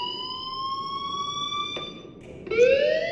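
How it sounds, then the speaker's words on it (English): A fire alarm rings in the Life Is Strange video game, a steady multi-tone electronic wail holding for several seconds, briefly dipping and then returning louder and rising in pitch, with no talking. "do you hear that fire alarm? That means you should be outside."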